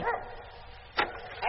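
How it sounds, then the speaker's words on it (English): A dog barks and yaps in short bursts at the start, middle and end of an old radio drama, fairly faint. "Dog's only got to yap a little and you think it's dingoes after the sheep"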